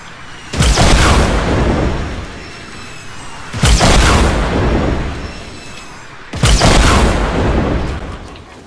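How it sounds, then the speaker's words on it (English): Rockets fired in Fortnite, with three loud booming blasts spaced a few seconds apart, each followed by a rumbling decay before the next. "Shooting rockets."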